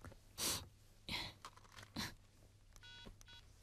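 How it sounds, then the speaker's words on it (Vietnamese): A mobile phone message alert tone chimes briefly near the end, a short run of bright electronic beeps following a few louder rustling or breathy noises nearby. "Bà Nghiêm, bà có điện thoại kìa"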